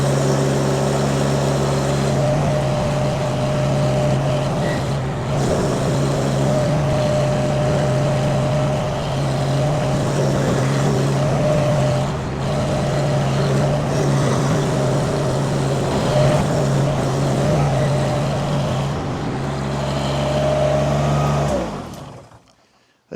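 A 3,500-pound compact machine packs down ground, its engine droning loud and steady with a strong low hum and faint rises in revs, running for over twenty seconds before cutting off.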